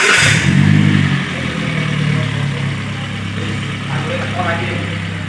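A Toyota Avanza engine cranks and catches with a loud burst during a 30,000 km service, then settles into a steady, close idle hum while a voice talks faintly over it.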